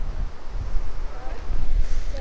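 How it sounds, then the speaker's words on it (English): Strong wind buffets the microphone beside a lake in Killarney National Park, Ireland, a loud steady low rumble with gusts swelling and dropping throughout. "very windy, just bear with me."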